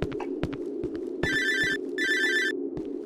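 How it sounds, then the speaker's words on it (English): A telephone rings in the horror video game Cry of Fear, two electronic bell bursts in quick succession over a low ambient drone, clear and close with no talk. "Our phone is ringing, and to answer it, just bring it out on its own."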